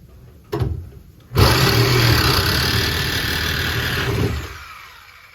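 A Sawzall reciprocating saw cuts steadily in a cramped spot from below. After a brief knock, a loud, continuous buzzing grind runs for about three seconds and then stops, with no talk.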